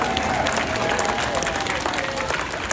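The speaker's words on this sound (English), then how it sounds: "so can we please give her a round of applause" Audience applause at a sea lion show in an amusement park arena, a dense, steady roar of many hands clapping, loud and sustained throughout with a faint tonal hum underneath.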